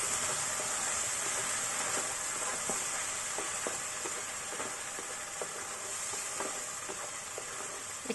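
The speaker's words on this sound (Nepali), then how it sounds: "फेरि भुट्नुपर्छ एकछिन।" Ground tomatoes with spices fry in hot oil for a Nepali dhaba-style matar paneer, giving a soft, steady sizzle with scattered small pops and spatters throughout, moderately quiet and close, with no talking.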